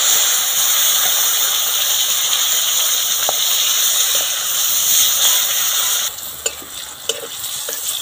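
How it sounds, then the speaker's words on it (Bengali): Flat beans fry in hot oil in a kadai, giving a steady loud sizzle and hiss throughout, with a few clinks of stirring near the end as the sizzle drops slightly. "এবার সিমগুলো ভেজে নেব।"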